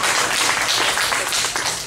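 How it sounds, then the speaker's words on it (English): An audience at a car raffle drawing in St Jerome Catholic Church breaks into applause, a loud, dense burst of many hands clapping close by that fills the whole moment. "let's have a nice applause."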